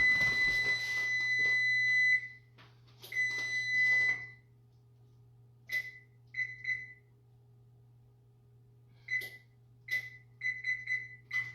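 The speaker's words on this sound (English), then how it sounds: "there's the timer" Kitchen timer beeping while donuts bake, bright electronic tones in short repeated bursts, first long runs then scattered clusters of quick beeps, with a low hum beneath.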